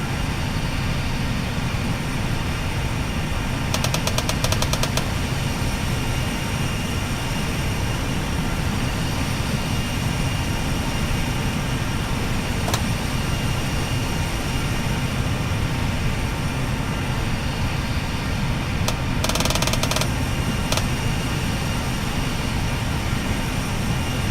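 A steady roar of simulated Airbus A320 jet engines running at idle in a flight simulator, a constant broadband drone that holds unchanged, with a few faint clicks over it.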